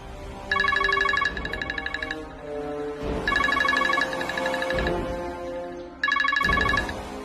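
A phone ringtone plays a bright repeating melody in three bursts, separated by short pauses, with a low background hum underneath.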